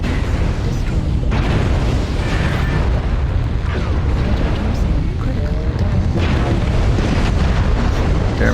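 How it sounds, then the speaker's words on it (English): In the Mechwarrior Online video game, missiles fire and explode as a dense, continuous barrage of booming blasts and rumbling detonations. The battle noise is loud and constant throughout, with a player talking over it. "Some missiles go."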